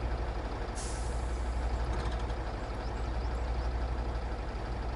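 A heavy truck maneuvering into position in Spintires: Mudrunner, its steady low engine rumble filling the scene, broken early by a sharp hiss of air brakes and faint repeated reversing beeps.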